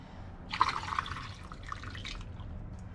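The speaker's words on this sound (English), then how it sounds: "We officially have a full glass jar of coconut water" Coconut water drips and trickles into a glass jar, a short run of faint splashes and drops that builds briefly and then tapers off, quiet and alone.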